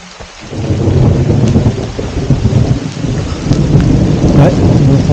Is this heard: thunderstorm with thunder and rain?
yes